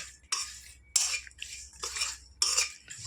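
Mustard oil cake being dry-fried in a pan as fishing bait, stirred with a metal spoon, giving repeated scraping, rattling strokes in regular bursts, close and fairly loud.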